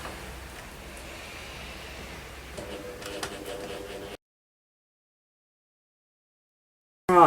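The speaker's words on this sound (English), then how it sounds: "so now I shall finish sewing this" A sewing machine stitches a seam down the middle of fabric with a faint, steady mechanical whir and ticking for about four seconds, then stops abruptly into silence before a brief louder clatter at the end.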